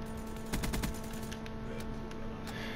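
Razorback gun firing in a video game: a rapid burst of close shots near the start, then a few scattered single shots over a steady background hum.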